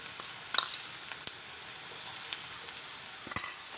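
Crushed ginger and garlic frying with browned onions in a pan, giving a steady soft sizzle with a few sharp clinks of a utensil against the pan.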